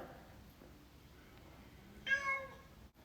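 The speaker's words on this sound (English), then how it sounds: "a kitty meowing in the background" A single short cat meow, fairly faint and distant, rising out of a quiet room background near the end.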